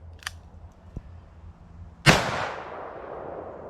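.500 JRH handgun fired once outdoors: a single sharp, loud blast with a short trailing decay, preceded by faint clicks and quiet handling.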